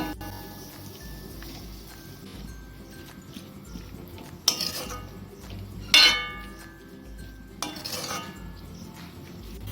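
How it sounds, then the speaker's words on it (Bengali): Chopped raw mango for a sour-sweet achar is turned with a spatula in a dry kadai, with no oil; a few sharp metal clinks and scrapes stand out against a quiet kitchen background. "পুরো আম কুচিটাই কড়াইতে দিয়ে দিলাম একটু নাড়াচাড়া করে নিয়ে"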